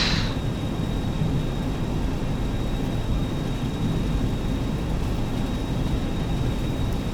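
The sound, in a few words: Boeing 737-200 engines at takeoff thrust, X-Plane 11 game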